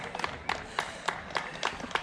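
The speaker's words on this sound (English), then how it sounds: "Round of applause." Onlookers at Rufford Ford clap in a short burst of scattered applause, irregular claps rising and falling over about two seconds, with some faint crowd noise and voices underneath.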